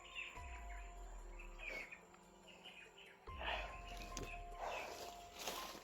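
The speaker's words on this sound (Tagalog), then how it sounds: "may mga ingay ng mga ibon tol" Faint birds chirp and tweet outdoors in short scattered calls, with a few soft footsteps and low rumbles in between.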